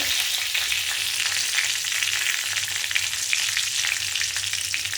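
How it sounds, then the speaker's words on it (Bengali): Cumin seeds and green chillies temper in hot oil for a Bengali cabbage curry, giving a loud, steady, close sizzle and crackle that runs unbroken throughout. "একটু জিরে ফোড়ন, দুটো কাঁচা লঙ্কা ফোড়ন দিয়ে"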